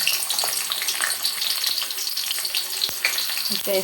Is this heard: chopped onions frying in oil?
yes